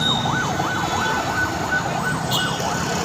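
Fire truck sirens wail in overlapping rising and falling sweeps as emergency vehicles arrive and queue at a scene in Metro Manila, loud and continuous with road traffic rumbling underneath.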